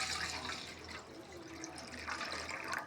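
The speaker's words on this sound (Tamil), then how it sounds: "இப்போ இந்த குண்டானில் கொஞ்சமாக இதை ஃபுல்லாக அப்படியே தண்ணி ஊற்றிக்கலாம்." Water poured steadily into a cooking pot, a continuous splashing, gurgling rush that stays close and even throughout the short stretch, with no talking over it.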